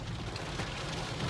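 Steady patter of rain on a 2003 Ford Windstar during a drive in Florida traffic, a dense even hiss with low road rumble underneath, no talking.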